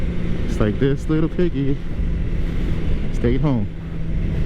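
A 2013 Suzuki GSX-R 600 motorcycle on a warm-up ride gives a steady engine drone mixed with wind noise, running continuously under a rider's talking.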